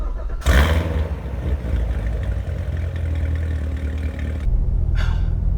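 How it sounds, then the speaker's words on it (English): A Corvette C7 Z06 with a 6.2-liter LT1 V8 fires up with a sharp burst, then settles into a deep, loud idle rumble close by that briefly drops away and swells again near the end. "I want to give you guys a little sound clip or an exhaust clip of this car"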